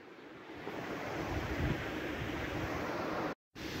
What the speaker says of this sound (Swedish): så mäktigt att vara här vid vattenfallet